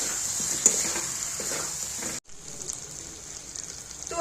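A ground paste of cashew, poppy and melon seeds stirred into jackfruit curry frying in oil, soft sizzling with scraping stir strokes, then a brief cut before quieter, steady sizzling resumes.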